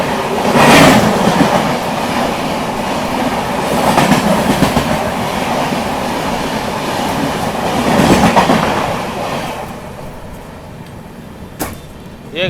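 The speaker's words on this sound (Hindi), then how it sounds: "बगल से क्रॉस हो रही है धनबाद एलटीडी मुंबई स्पेशल।" Heard from aboard the Deccan Queen, the Dhanbad LTT Mumbai Special train rumbles past close by on the next track, a steady loud roar with clattering wheels and swells of wind, fading near the end.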